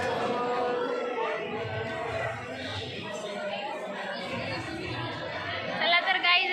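A dense crowd chatters continuously at a Nanded temple on a Shravan Monday, many overlapping voices forming a steady, fairly loud murmur throughout.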